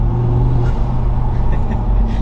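A loud Ford Focus RS Mk2 five-cylinder engine rumbles close by, revving steadily with a deep, throaty growl throughout.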